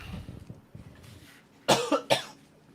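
Three sharp, loud coughs close to the mic in quick succession, after a stretch of faint background noise.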